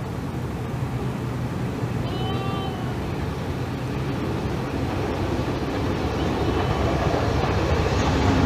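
An LMS Coronation class steam locomotive, the Duchess, approaches Hellifield Junction on the Settle and Carlisle line, giving a steady, loud rumble of wheels and train noise that builds slightly, with a brief whistle-like tone early on.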